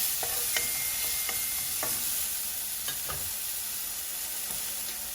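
Spring onions tossed into a frying pan with salt and pepper ribs: a continuous loud sizzle of frying with repeated scraping stirs and clinks throughout.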